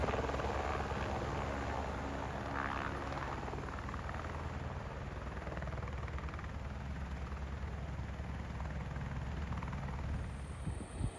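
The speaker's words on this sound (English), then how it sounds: "The sound of helicopters overhead can often be heard as supplies or hikers are delivered to the huts and lodges along the way." A helicopter flies overhead along the Milford Track hiking route, delivering supplies or hikers to huts. Its rotor thump and engine drone hold steady and loud for the whole stretch, with no talk.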